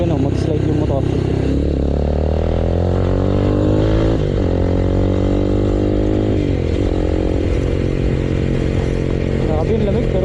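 A motorcycle engine runs loud and close during a solo ride along a winding road with hairpin turns in Bataan, holding a steady drone with shifts in pitch as it rides and slows through curves.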